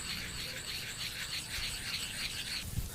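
Abrasive rasping as soapstone is sanded in even circular strokes, a steady scratchy rhythm that runs continuously and close before stopping near the end.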